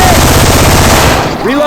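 Rapid automatic gunfire from Syphon Filter weapon sounds swapped into Left 4 Dead 2 rattles in a loud, fast, even burst, then cuts off, with a character's voice faintly under the shots.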